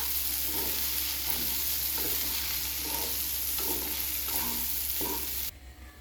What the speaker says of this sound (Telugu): ఇప్పుడు ఈ స్మాష్ చేసిన దాన్ని తిరగబాతలో వేసి బాగా కొద్దిసేపు కలబెట్టాలా